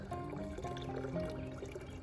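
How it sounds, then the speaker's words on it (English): Water poured by hand onto plants in a potager garden, a soft, quiet steady trickle and splash with faint background tones. "we are still hand watering everything in the potager garden"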